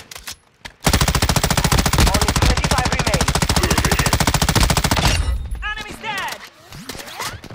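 Rapid, sustained automatic gunfire from a battle royale style shooter game rattles loudly and continuously for about four seconds, then cuts off, leaving scattered softer shots and game sounds.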